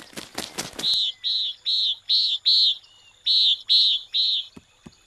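A run of eight or nine bright, evenly spaced chirps rings out close by after a few sharp rustling clicks.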